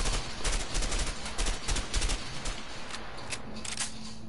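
Gunfire in the co-op game A Way Out: a steady, dense run of close shots and rattling bursts lasting the whole stretch, with no talk over it.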